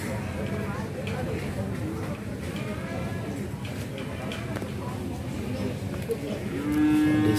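A young water buffalo calf, about one month old, moos at a busy livestock market in Jepara, its call rising near the end over steady crowd chatter and background noise.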